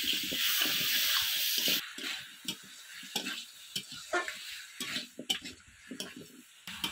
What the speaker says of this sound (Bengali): দিয়ে দেব ধুয়ে রাখা গুঁড়ি কচু আর আলু, দিয়ে ভালো করে মশলার সাথে কষিয়ে নেব।